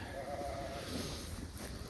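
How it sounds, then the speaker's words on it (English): Sheep, a group of ewe lambs with a ram, bleat at feeding time on a farm. A drawn-out bleat comes through near the start over steady background noise, with fainter farm sounds after it and no talking. "just feeding the sheep."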